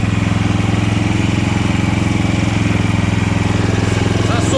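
WEIMA WM6000EI 6 kW inverter generator engine running steadily with no load, a loud, even mechanical drone with a fast regular pulse throughout.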